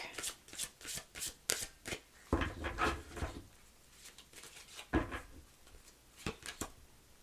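A deck of tarot cards being shuffled and drawn up close, a quick run of soft riffling flicks and slides followed by a few louder card snaps and rustles, fairly quiet overall.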